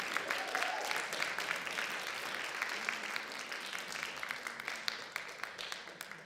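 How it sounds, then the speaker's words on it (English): An audience applauds a band in a dense, steady wash of clapping from a sizeable crowd, heard at a moderate distance and holding fairly even for several seconds. "Let's give them another round of applause"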